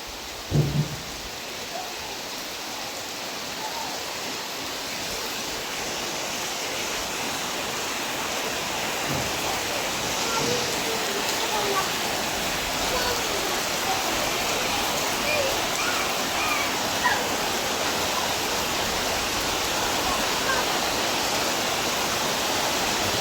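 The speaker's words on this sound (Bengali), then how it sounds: "বৃষ্টি কিন্তু বেশ ভালো চলতেছে" Heavy rain falls steadily in a continuous dense hiss for the whole stretch, with a faint thump near the start and no break in the downpour.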